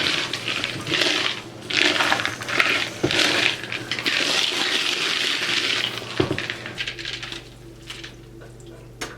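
Rocks clatter and rattle inside a spinning rock tumbler drum during the final polishing stage, a continuous gritty tumbling with irregular clicks, close up, settling into a quieter hum toward the end.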